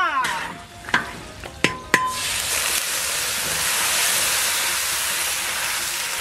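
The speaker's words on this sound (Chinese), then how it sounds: "把熬好的高汤倒进来" Simmered broth is poured into a hot pot of fried chilies, bean paste and hot pot base. A few sharp clinks come first, then a loud, steady sizzling hiss.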